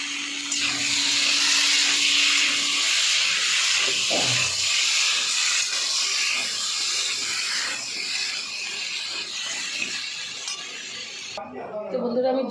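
Water poured into a hot pan of vegetable curry with turmeric, chilli, cumin and pepper paste sets off a loud, steady sizzling hiss that slowly settles, with a few utensil clinks near the end.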